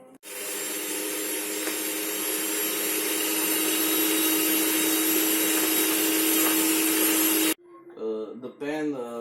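A countertop electric mixer or blender runs loud and steady for about seven seconds, mixing pancake batter of yogurt, fresh cheese and vanilla sugar in a bowl, then cuts off abruptly and a voice speaks.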